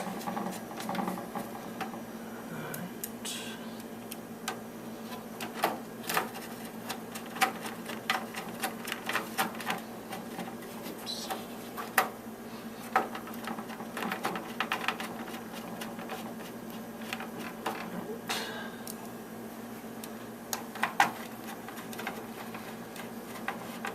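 Small screws driven with a magnetic screwdriver into a Dell PowerEdge SC1430 server system board, heard as a quiet run of irregular clicks, ticks and scraping taps under a steady low hum.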